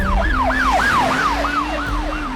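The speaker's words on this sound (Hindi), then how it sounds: "एम्बुलेंस का आवाज सुनाई दिया" An ambulance siren wails nearby in a fast repeating rise-and-fall pattern, loud and continuous over a low engine rumble.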